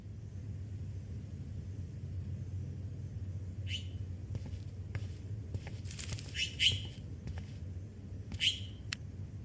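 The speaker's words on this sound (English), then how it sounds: "Oh no, that poor little bird has been trapped in here." A trapped bird flaps and chirps inside a room in the Life is Strange video game, with scattered short wing flutters and high calls over a steady low rumble of game ambience.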